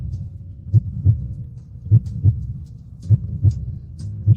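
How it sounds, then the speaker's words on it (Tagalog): Fast, heavy heartbeat in a tense moment, thudding in close double beats, lub-dub pairs repeating steadily over a low hum, loud and near with no voices. "Bakit mabilis ang tibok ng puso ko?"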